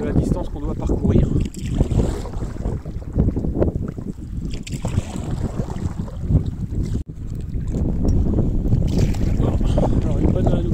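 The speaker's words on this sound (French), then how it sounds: "le vent a forci, bien entendu, là en plein sur le lac" Strong wind gusts across a lake on a canoe trip on the Müritz in Germany, roaring and buffeting the microphone continuously with rushing water and boat noise underneath, and a voice speaking over parts of it.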